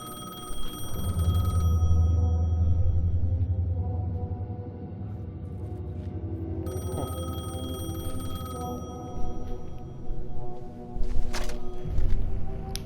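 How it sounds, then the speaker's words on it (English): A payphone ringing in Alan Wake 2, a metallic bell tone sounding in bursts over a low droning ambience, fairly close, with faint rustling movement near the end. "The payphone was ringing."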